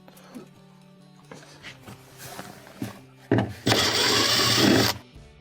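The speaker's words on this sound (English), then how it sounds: "let's get our screwdriver and remove these 2 screws at the top" Screws are worked loose with a screwdriver from the evaporator cover inside a refrigerator that isn't cooling: scattered close scrapes and small clicks, then a louder, longer grinding burst near the end.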